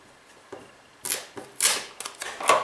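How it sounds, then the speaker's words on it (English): Three or four sharp, papery presses of a rubber stamp onto paper land at irregular intervals, each a brief thump with a crisp rustle, close by in a quiet room. "So I'm going to stamp it."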